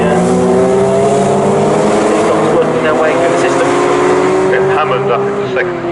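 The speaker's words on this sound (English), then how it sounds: "In comes the 60 car now of Lee Piercy from up in second place" Lee Piercy's number 60 car in a 750MC Tegiwa Roadsports race at Snetterton circuit roars close and loud, its engine pitch climbing steadily as it comes in.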